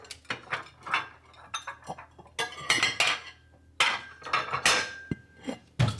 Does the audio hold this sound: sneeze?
no